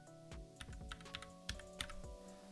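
Typing on a computer keyboard while entering a command in Windows 11: a short burst of a dozen or so crisp, close key clicks in an uneven rhythm, with no talking.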